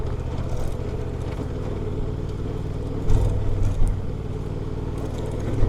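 Honda Transalp motorcycle ridden along an unimproved gravel road, a steady low engine drone with rumbling tire and wind noise, a couple of louder bumps midway, no talking.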